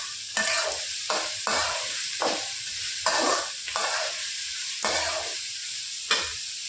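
Flour dough for kozhukattai is stirred in a pan in repeated scraping strokes, each stroke bringing a burst of sizzle and hiss, close and fairly loud, with no talking.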